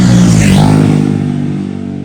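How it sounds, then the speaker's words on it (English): Motorbikes race at the Manx Grand Prix on the Isle of Man mountain course, a loud, close engine roar whose pitch sweeps past and slowly fades, with no voices over it. "I don't know if you can hear all the motorbikes in the background"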